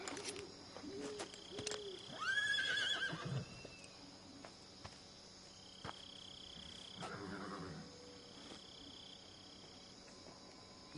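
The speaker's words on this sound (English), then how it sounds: "A horsey." A horse neighs in the stealth action game Metal Gear Solid 3, giving one clear whinny over a quiet background of ambient outdoor game sound, with a few hoof-like thuds afterward and no talking.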